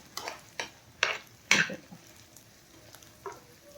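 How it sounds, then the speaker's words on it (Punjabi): Fenugreek pickle mixture being stirred in a pan, several scraping strokes of a spoon against metal in uneven succession, close and fairly soft over a quiet hiss. "ਸੋ ਆਪਾਂ ਸਾਰੇ ਨੂੰ ਅੱਛੀ ਤਰ੍ਹਾਂ ਹਿਲਾਉਂਦੇ ਰਹਿਣਾ"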